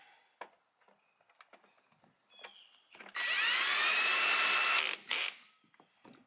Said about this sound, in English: Get your drill.